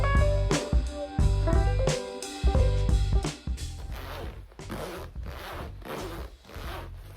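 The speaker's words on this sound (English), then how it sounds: "Yes, I can zip my coat up now." A coat zipper with a newly fitted slider is zipped up and down several times in quick, loud rasping strokes, close up, followed by softer rustling of the coat fabric.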